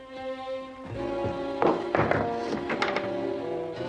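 A fist pounds on a locked wooden door in a period English country house, a run of loud, close thuds and knocks in quick irregular bursts that grow heavier partway through.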